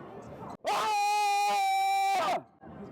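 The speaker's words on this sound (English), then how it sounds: "Stand directly in front, scream as loud as you can" A person screams as loud as they can into a loudness meter at a Disneyland Paris business event, one sustained, very loud, close scream of about two seconds, with brief background chatter before and after.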